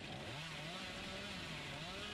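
Hillbilly's chainsaw in the Dead by Daylight video game revs with a steady, loud droning whine that wavers slightly in pitch, continuous for about two seconds with no talk over it.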